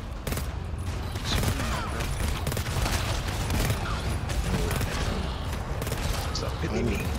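Rapid gunfire from a team firefight in the co-op shooter video game GTFO, where a sniper rifle is in use; dense, continuous shots and clatter fill the whole stretch, loud and close, with players talking over it.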